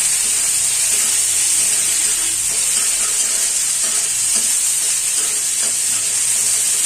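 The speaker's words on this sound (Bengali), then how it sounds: "মশলাটা একটু ভালো করে ভেজে নিই" A spice paste with tomato paste, made for dalma, fries in a pan with a loud, constant close sizzle, broken by scraping stirs and small popping spatters.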